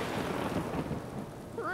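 A cartoon thunderstorm rumbles with heavy rain, a dense continuous roar of downpour and low thunder that fills the short stretch at an even level, with a faint voice-like sound creeping in at the very end.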